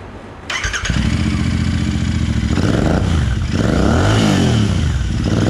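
A Royal Enfield Interceptor 650 motorcycle with a modified exhaust starts up and revs loudly close by, its deep, throaty exhaust note rising and falling through several throttle blips.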